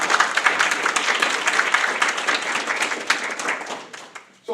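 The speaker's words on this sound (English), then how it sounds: "We give her a round of applause" An audience at a school district board meeting gives a round of applause, dense and steady clapping that gradually thins and fades out near the end.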